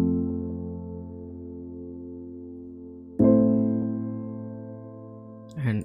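Dry, unprocessed soft piano chords sustain evenly, then a fresh chord is struck midway and rings out, with a brief extra note near the end; clear and close with no effects.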